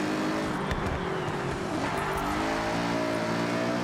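A sports car engine in the video game Forza Horizon 6 roars steadily, its harmonic note slowly shifting in pitch as it revs, loud and close with no talking.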